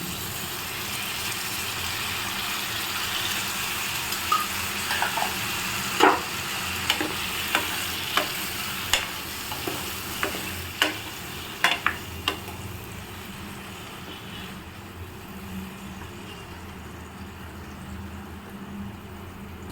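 Pumpkin for a sweet and spicy fry being stirred in a pan, with a spatula tapping and scraping in a loose series over a soft, steady sizzle that settles near the end.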